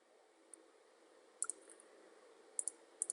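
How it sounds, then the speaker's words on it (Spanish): A computer mouse clicking faintly in a quiet room, several sharp single and double clicks spread irregularly over a low steady hiss. "hacemos clic en siguiente"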